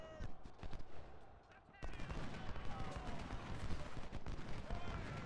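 Infantry rifle volleys in the Civil War strategy game Ultimate General crackle as dense ragged gunfire, with a sharp burst of massed shots mid-way followed by continuous rattling musketry and distant booms.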